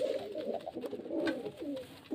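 Pigeons coo in a low, rolling series of throaty calls at a pigeon sale in Beldanga, close and fairly steady, with no talking.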